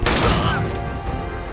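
A double-barrel shotgun in a first-person shooter fires one loud, close blast that rings out and fades slowly over a second and a half, with no voices.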